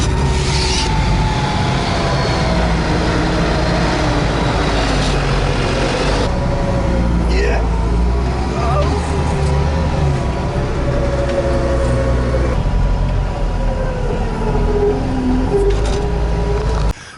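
A Tucker Sno-Cat snowcat drives along a steep mountain trail, its engine a steady low drone with grinding track noise and shifting tones as it climbs, loud and continuous throughout with no talking.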